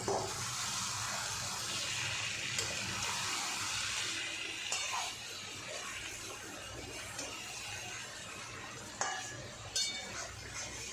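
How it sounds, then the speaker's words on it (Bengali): A utensil stirs pieces of hilsa fish head into Malabar spinach in a pan, making soft scraping and occasional metallic clinks against a steady background hiss. "আমি এবার এই যে ইলিশ মাছের এই যে কাটা অংশটা দিয়ে দেবো দিয়ে আমি আলগা আলগা করে নাড়বো"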